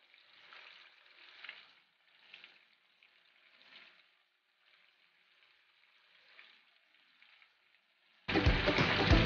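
Hissing, crackling sizzle of chicken wings deep-frying in hot oil, steady and moderately close, swelling in soft waves before a sudden loud burst at the end.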